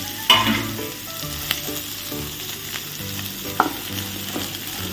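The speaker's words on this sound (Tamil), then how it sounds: "இங்கே கடு வறுத்தாச்சு" Mustard seeds fry in a hot pan for a home-cooked meal, with a steady, close sizzle and crackle and occasional sharper pops.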